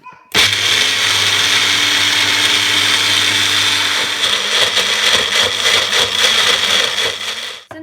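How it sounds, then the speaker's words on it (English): A blender runs loud and steady throughout, whirring as it blends carrots and oranges into juice, with a slight shift in its grinding tone partway through. "So now there we have our carrot and orange juice all blended up."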